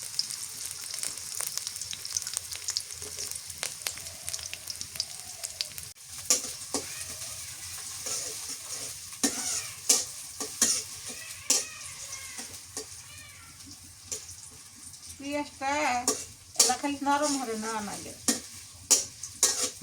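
Chopped onion and green chili fry in soybean oil with a continuous sizzle and repeated stirring scrapes, while a cat meows several times near the end.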